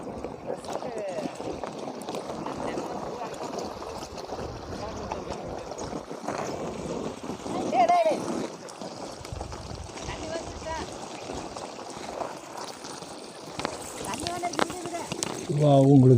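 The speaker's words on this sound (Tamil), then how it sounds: "தண்ணி போகுது பார்ப்போம்" Water rushes and sprays steadily from a rain pipe sprinkler running on a low water supply, a continuous close hiss that swells slightly near the end, with people talking over it.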